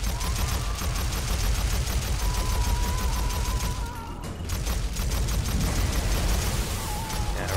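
Semi-automatic gunfire rings out in the VR game Syren, rapid single shots in quick succession over a dense, loud game soundscape, with a brief lull partway through.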